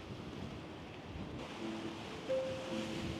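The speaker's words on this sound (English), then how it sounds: "So it is a little bit windy this morning." Wind blowing along a waterside boardwalk on a Curaçao morning, a soft, broad rushing wash with low rumble, steady and faint, with no voices.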